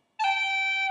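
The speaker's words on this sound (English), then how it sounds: "So now we're going to do a G cut." A single G cut ornament on bagpipe-style pipes: one sustained reedy note with a bright stack of harmonics, starting abruptly after a short silence and holding steady and loud to the end.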